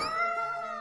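A cat in the video game Tales of Berseria gives a single short, high, tonal meow, sliding in pitch, clear and alone over quiet game sound.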